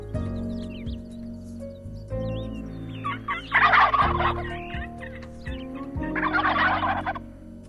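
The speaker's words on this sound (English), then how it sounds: "A wild turkey foraging on the forest floor." Two loud bursts of wild turkey gobbling over a low droning background, close by, with rustling in between, on a forest floor.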